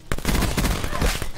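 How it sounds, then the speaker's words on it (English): Rapid automatic gunfire in the video game Call of Duty: Black Ops 4, a loud dense burst of overlapping shots filling the whole short moment. "He shot me right through the whole fucking map."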